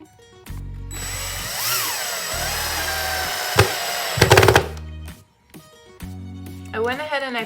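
A power drill driving screws into wood brackets while building a toe-shaped toilet paper holder, with several whirring bursts that rise and stop, separated by short pauses, loud and close.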